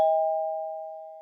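One electronic doorbell chime rings as a single clear steady tone that fades slowly, with no other sounds.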